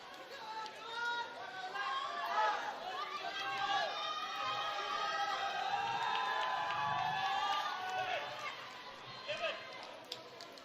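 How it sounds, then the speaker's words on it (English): A crowd at an athletics final of the North East Games in Nagaland cheers athletes through the rain, a faint, distant murmur of voices and shouts under steady rainfall and commentary. "some people in the crowd cheering on despite all the rains"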